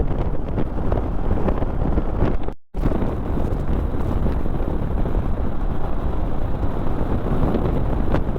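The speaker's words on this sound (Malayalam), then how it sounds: "ഭയങ്കര കാറ്റുണ്ട് കേട്ടോ" Strong wind roars and buffets the microphone in a loud, continuous rush during a motorbike ride from Indore to Mumbai, with one brief dropout partway through.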